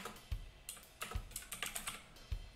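Typing on a computer keyboard while coding, close and quiet, a loose run of clicky key taps with a few heavier thuds from the larger keys and short pauses between bursts.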